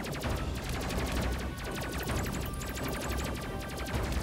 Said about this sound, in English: Alright, missiles away